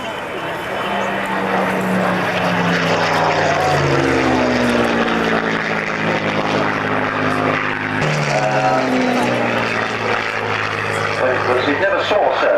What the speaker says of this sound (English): Spitfire, Mark 1A Spitfire. Very good. So the only Mark 1 in flying order.